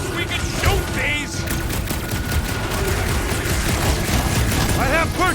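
Gunfire in the Guardians of the Galaxy video game, dense bursts of shots layered over a steady rumbling game soundscape, with brief voice-like chirps near the start and end.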